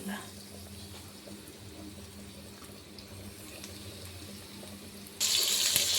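Semolina-coated fish pakora slides into hot oil in a wok and bursts into a loud, hissing sizzle near the end, after a quieter stretch of kitchen background under a person's talk.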